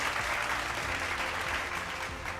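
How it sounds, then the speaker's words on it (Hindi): Loud, dense applause from a crowd at a leadership meeting, steady clapping throughout with no pauses. "एक बार जोरदार तालियां"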